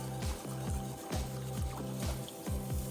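Beef stock being stirred together with canned tomatoes in a pot of boiling beef bourguignon, a soft liquid slosh repeating in a steady rhythm, close and gentle, with no talk.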